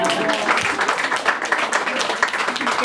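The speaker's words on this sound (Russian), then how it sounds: "Валя, аплодисменты, Валя." Applause at a birthday celebration: steady, dense clapping from a group throughout, fairly loud and close, with voices faintly mixed in underneath.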